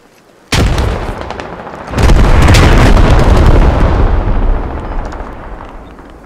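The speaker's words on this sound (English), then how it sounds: "Watch out for artillery" Artillery shells exploding in the Squad military video game, loud booming blasts that hit hard and then swell into a sustained rumbling roar that slowly fades out, with no talking.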